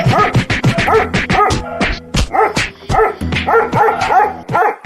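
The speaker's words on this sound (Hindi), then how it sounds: "कुत्ता भौंक भौंक कर दोनों की लड़ाई बंद कराने की कोशिश करता है" A cartoon dog barks to break up a fight, a rapid run of sharp, loud, close barks in quick bursts, with short gaps and a whimpering yip among them.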